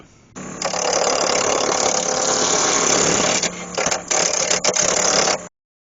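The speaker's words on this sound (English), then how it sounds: "I'm just coming in with my roughing gouge, and I'm just taking the four corners off and just take this down to a cylindrical shape" A wood lathe with a roughing gouge knocks the four corners off a square blank held between centres, turning it toward a cylinder for a Christmas penguin. The loud, steady scraping whir starts abruptly, runs about five seconds with brief dips near the end, then stops.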